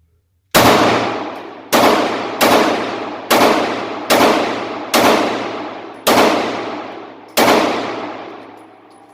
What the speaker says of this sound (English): So we'll just throw a couple more rounds through here.